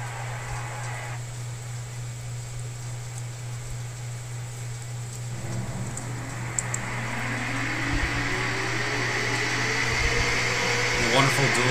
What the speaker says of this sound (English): The wonderful dual exhaust sound of these cars.